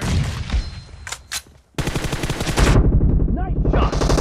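Gunfire in PUBG Mobile, loud close bursts of rapid automatic shots with a brief pause, then a longer sustained volley.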